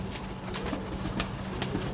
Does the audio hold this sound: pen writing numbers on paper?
no